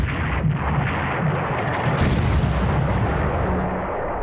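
Heavy naval gunfire from a battleship fleet shelling a transport in a World War II strategy game, a dense continuous barrage of deep booms and rumbling blasts with a sharper burst midway, loud and close with no talking.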